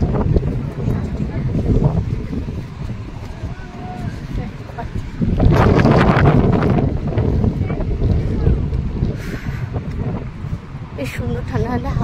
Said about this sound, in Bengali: বেশ সুন্দর ঠান্ডা ঠান্ডা হাওয়া আছে